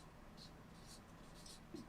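A pen scratches out the number 14 by hand on a quiet surface with short, soft strokes in quick succession, faint and close.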